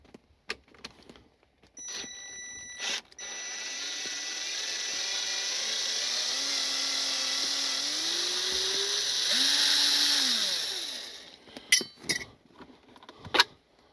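A power driver whines steadily for about eight seconds while backing out a long wax-coated console screw, its pitch shifting near the end, framed by clicks and handling taps before and after.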